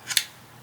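A single quick snip of scissors trimming material for a home decor craft, crisp and close in near silence.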